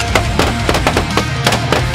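Shotgun blasts during a Michigan goose hunt with decoys, a quick volley of roughly eight sharp, loud shots fired in close succession by several hunters, with no talking.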